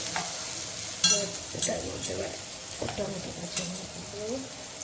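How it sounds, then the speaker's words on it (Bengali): Onions with turmeric sizzle steadily in a pan, punctuated by repeated scraping and clacking strokes of a spatula as they are stirred, heard up close. "একটু হলুদ দিয়ে একটু নাড়াচাড়া করছে। পেঁয়াজটা ভালো করে একটু কষিয়ে নেবে যাতে নরম হয়ে যায়।"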